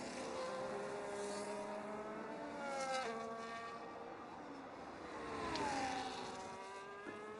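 A Ferrari race car in a sim racing game runs a lap at the Australia round, its engine whining steadily through rising and falling gear pitches, with two brief swells in loudness.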